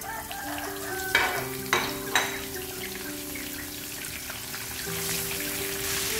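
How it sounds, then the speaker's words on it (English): Salted fish frying in hot oil in a pan, a continuous close sizzle with a few sharp pops and spatters near the start, steady and fairly quiet, no talking. "I'm going to fry this salted fish."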